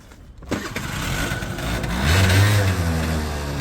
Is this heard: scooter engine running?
yes